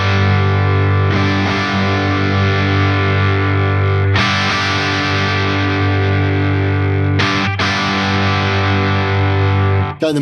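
A heavily saturated electric guitar played through a Friedman IR-X twin-channel high-voltage valve preamp with the treble turned down rings out in loud sustained chords, re-struck a few times, and stops abruptly at the end.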